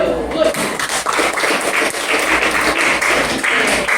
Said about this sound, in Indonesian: kita kasih dulu aplaus untuk kelompok 1